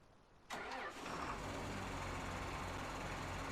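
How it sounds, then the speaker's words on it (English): A large tractor engine in Farming Simulator 19 cranks and catches with a sharp burst, then settles into a steady, rumbling idle that continues to the end. "Very nice startup sound."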